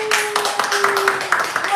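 A group of students claps for a classmate, quick brisk applause from a small room of hands, with a sustained tone running underneath.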